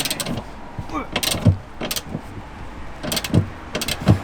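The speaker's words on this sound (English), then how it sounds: "And then you just tighten it. 19mm socket." A 19mm socket and ratchet tighten a tow hook on a Honda Civic Type R FN2, giving repeated metallic clicks and creaks at close range in bursts with short pauses.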